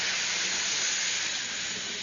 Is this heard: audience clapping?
no